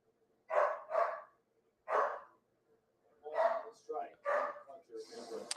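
A small indoor dog lets out soft woofs in uneven bursts, a pair, then single and clustered barks spaced over a few seconds, fairly close and moderately loud.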